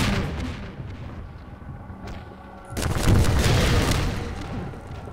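Heavy booming fire from Strider walkers in the Half-Life 2 video game, a dense low rumble that surges louder in the second half, close and continuous with no talk over it.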